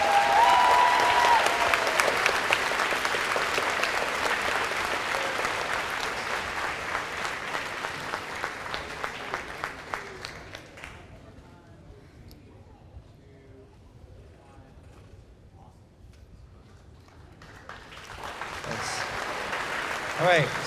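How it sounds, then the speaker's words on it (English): An audience at a middle school band spring concert claps loudly and continuously, the applause gradually thinning and fading out, then a quieter stretch before clapping or crowd noise swells again near the end. "another huge round of applause."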